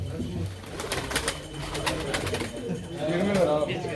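Performing pigeons cooing softly nearby at a bird auction, with low throaty calls mixed among voices and background chatter.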